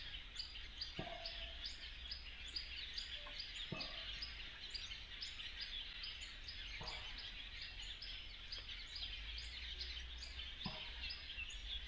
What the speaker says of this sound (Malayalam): കണ്ടോ ഫുള്ള് കിളികളുടെ സൗണ്ട്